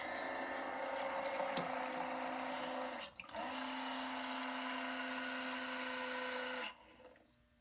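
Water pours and drains steadily from a self-cleaning chicken water bowl's dump function, with a mechanical hum, briefly pausing partway through, then cutting off abruptly near the end.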